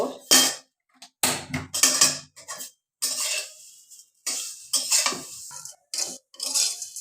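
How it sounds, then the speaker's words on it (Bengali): Vermicelli stirred in a pan with a metal utensil for an iftar dessert, clattering and scraping in loud irregular bursts separated by brief silences, close by. "আমি এখন সামাই ভাজবো সামাই দিলাম"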